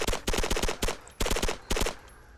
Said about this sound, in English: Whoever was shooting